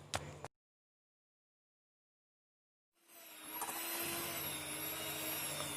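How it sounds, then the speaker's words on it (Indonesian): An electric mixer kneads egg-free bread dough for cheese rolls, starting after a short burst and a silent gap, then whirring steadily and fairly loudly without pause. "ini supaya cepat saya uleni menggunakan mixer"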